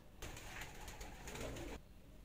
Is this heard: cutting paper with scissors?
no